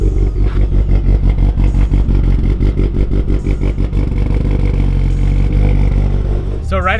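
A turbocharged Mitsubishi Evo X engine at cold start, loud and close, with a fast rhythmic clattering idle pulse that settles into a steadier hum; a brief high squeal near the end.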